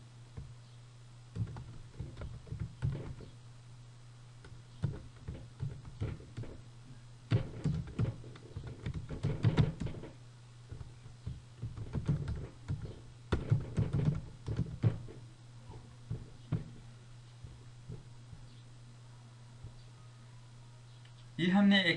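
Keys on a computer keyboard clack in uneven bursts and short runs while text goes into a PowerPoint text box, with quiet pauses between flurries and someone talking over much of it.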